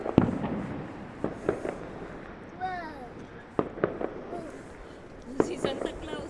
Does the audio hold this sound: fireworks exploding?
yes